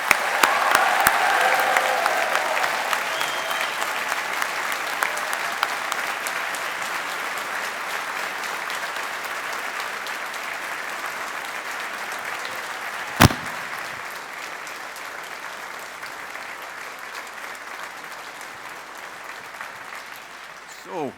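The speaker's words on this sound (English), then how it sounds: "let's give the class of 2024 a big round of applause" Sustained applause from a graduation ceremony audience greeting the Strathclyde pharmacy and biomedical sciences class of 2024, a dense even roar of clapping that slowly fades, with one sharp thump partway through.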